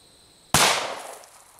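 A single 9mm pistol shot firing a 124 grain Remington Golden Saber round over a chronograph into jugs: one sharp, loud crack with a quickly decaying outdoor echo trailing off over a second.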